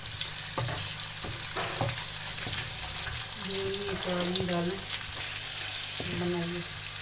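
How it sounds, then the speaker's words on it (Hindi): Onions frying in a mix of oil and ghee for aloo gobi, a steady close sizzle with scattered stirring clatter and brief tonal squeaks throughout. "प्याज आपने डाल लेने हैं। प्याज को बिल्कुल लाइट ब्राउन करना है हमने।"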